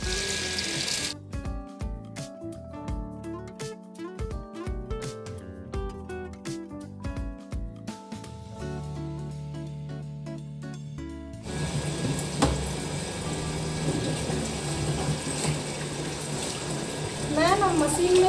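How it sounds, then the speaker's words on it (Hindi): A washing machine rinses clothes in water at home; background music plays through the first part, then a steady, loud rushing churn of water takes over for the rest. "मैं ना मशीन में ही कपड़े खंगाल लेती हूँ"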